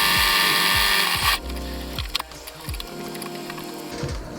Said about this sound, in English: and then you're going to want to sew along there.